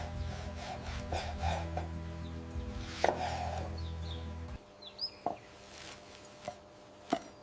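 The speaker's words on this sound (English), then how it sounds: "Cutting them into wedges for our rich broth." Knife slicing ripe red tomatoes into wedges on a board, a few separate dull chops and taps spaced apart, close and fairly quiet, with a background hum that stops partway through.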